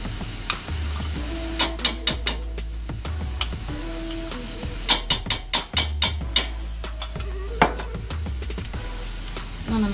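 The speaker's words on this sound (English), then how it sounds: "I'm gonna mix that in." Beef paste is stirred into a seafood gravy with shrimp and crawfish sizzling in the pot. A spoon scrapes and knocks against the pot in irregular strokes over a steady close bubbling fry.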